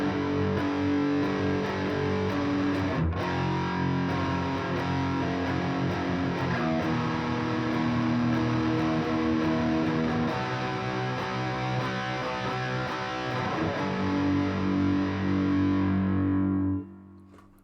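A heavily distorted electric guitar plays a progression of sustained power chords, thick and continuous, changing chords every few seconds before ringing out and cutting to silence at the end, with no voices.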